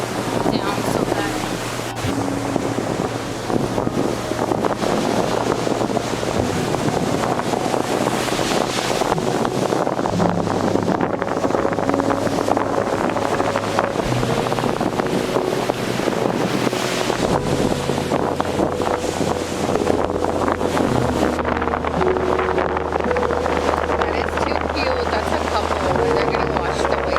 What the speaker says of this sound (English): The water is too good. The wind is too high.